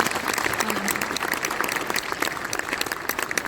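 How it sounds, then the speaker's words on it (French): Audience applause after a talk on socio-environmental and climate crises, a dense burst of clapping throughout with brief lower murmurs under it. "On peut vous applaudir pour ce petit point."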